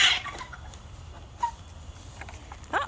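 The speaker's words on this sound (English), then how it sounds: "Got some testy hens." Hens on a farm give a few short, sharp clucks and squawks, faint against low background noise, with one call near the start and another near the end.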